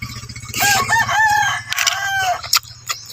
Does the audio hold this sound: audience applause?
no